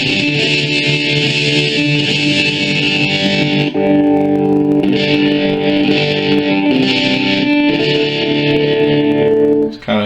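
Electric guitar played through a Boss ME-50 multi-effects pedal, a sustained, heavily processed tone with chords ringing on continuously and loudly for about ten seconds, with no talk.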